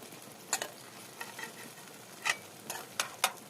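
Fried chicken pieces are stirred through a tomato masala in a pan, with scattered quick scrapes and taps of the spoon over a soft, low sizzle.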